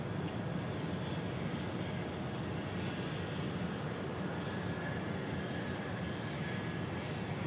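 Airplane engines roar steadily during a takeoff roll from runway 7 left at Phoenix Sky Harbor Airport, a dense, loud broadband rumble holding unbroken throughout with no voices.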